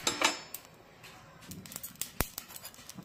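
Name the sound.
cumin seeds crackling in hot oil for tempering khichdi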